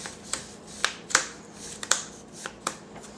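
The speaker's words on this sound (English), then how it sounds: "And then you would deal 4 prize cards." Pokemon prize cards dealt one at a time onto a table, giving several sharp, short card slaps and flicks spaced unevenly, close and fairly quiet, with no talking.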